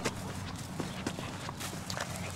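Horse hooves clip-clopping on a farm pasture, a steady walking rhythm of soft, moderately close hoof strikes over a constant low background hum.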